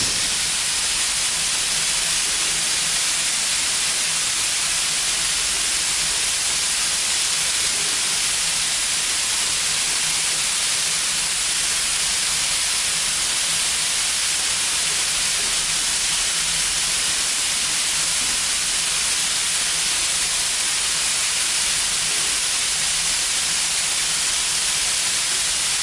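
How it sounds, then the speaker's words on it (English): Water mist nozzle discharging a fine spray in a fire suppression test, a loud, even, continuous hiss with no break throughout. "water is discharged from the nozzle, and we will check the pattern of the water discharge from this nozzle"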